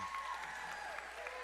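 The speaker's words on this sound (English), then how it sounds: "big round of applause for Ann" Brief, soft applause from a crowd at a Roaring 20s-themed Dancing With The Williamsburg Stars evening, honoring Ann, with a few voices mixed into the clapping.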